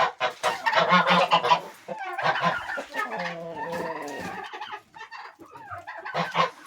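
Young red roosters and other poultry calling close by, with repeated loud honking and gobbling cries in bursts and overlapping crowing, alone with no talk.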